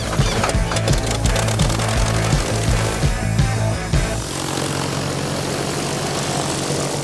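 Loud engine roar fills an aircraft cabin, a dense throbbing drone with a pulsing low beat that shifts to a smoother, steadier hum partway through, heard close and continuous.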